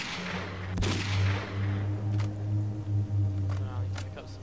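Gunfire in the shooter game Stalker: Call of Pripyat, one loud sharp shot followed by several fainter, more distant reports over a steady low in-game hum.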